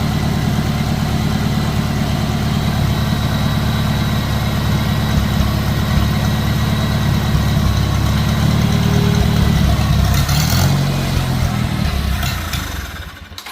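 A 1950 Farmall Cub tractor engine idling loud and close with a steady putter, then stumbling and sputtering near the end as it runs out of fuel and dies.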